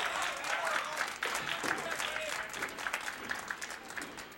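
A man clapping along with crowd applause at a 1986 duckpin bowling match, heard as dense, steady clapping over a room murmur, with a commentator speaking over it.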